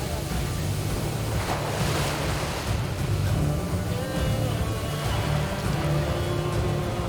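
Heavy, rough surf on the open sea off Kovalam in southern India, a steady loud roar of breaking waves and wind with low rumbling throughout and no clear pauses.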